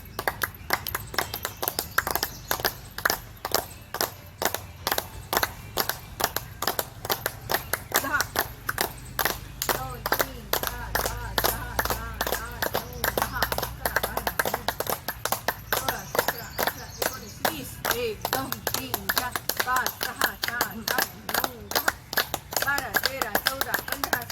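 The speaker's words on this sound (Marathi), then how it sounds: "चला टाळ्या वाजूया" A group of women in a garden at a Rangpanchami colour celebration claps their hands in a fast, steady rhythm throughout. Voices talk and call out under the clapping.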